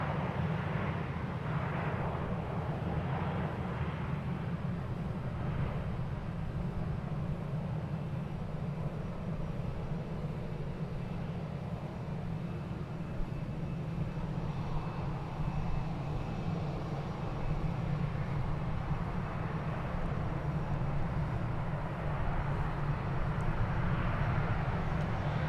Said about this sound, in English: Now arriving from Puerto Vallarta. American flight 1215.